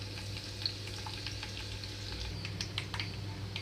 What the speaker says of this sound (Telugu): ఆయిల్ అంతా హీట్ అయిన తర్వాత తాలింపు గింజలు మొత్తం వేసుకుంటున్నాను అలాగే ఇందులోనే కొద్దిగా కొట్టి పెట్టుకున్న వెల్లుల్లి రెమ్మలు కూడా